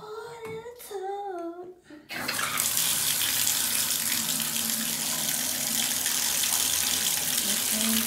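A bath tap runs water into a tub, a loud steady gushing that starts abruptly after a couple of seconds of a voice speaking and continues unbroken to the end.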